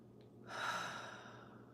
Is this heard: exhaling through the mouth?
yes